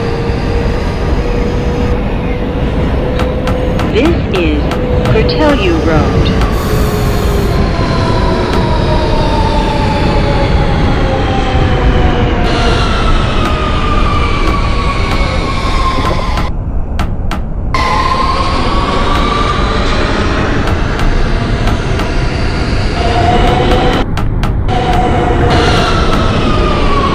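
Simulated R160B Siemens Q subway train in OpenBVE, running steadily toward Coney Island with a loud, continuous motor whine that rises and falls in pitch over constant track rumble, broken by a few brief dips.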